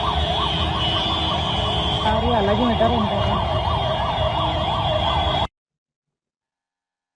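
An ambulance stuck in traffic on a VIP-restricted route in India sounds a loud, continuous wailing siren that rises and falls steadily, with someone speaking briefly over it before it cuts off abruptly.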